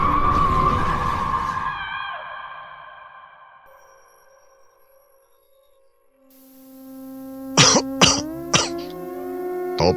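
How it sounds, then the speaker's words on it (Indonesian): Harsh coughing in a horror audio drama, as a man is jolted awake by a cough with a sore, dry throat; three or four rasping bursts come near the end over lingering eerie tones. "tersentak dari tidurnya karena batuk"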